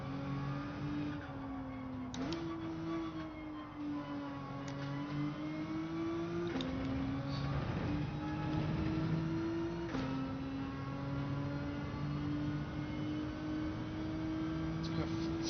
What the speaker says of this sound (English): This car sounds and feels slow.